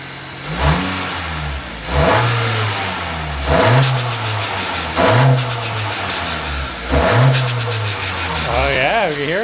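A 2023 Acura Integra engine fitted with a blow-off valve spacer revs repeatedly, five or six rising blips with pauses between, close and loud, with a whoosh near the end.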